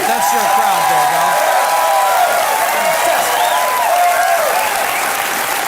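A studio audience claps and cheers for Bill Nye the Science Guy at a TV reunion special, dense, loud, sustained applause with whoops, steady throughout.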